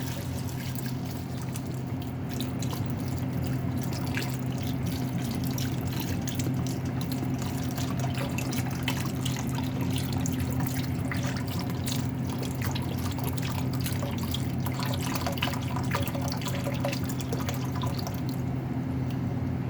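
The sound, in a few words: pouring beef broth into albondigas soup pot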